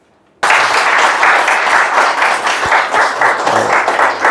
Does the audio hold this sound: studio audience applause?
yes